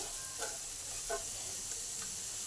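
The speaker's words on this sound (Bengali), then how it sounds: "পেঁয়াজগুলো ভাজা হয়ে গেছে আর আমড়াগুলো ভাজা হয়ে গেছে, সব একসঙ্গে মিশিয়ে দিই।" Fried onions and hog plums mixed together in a pan, sizzling softly with a few brief stirring scrapes.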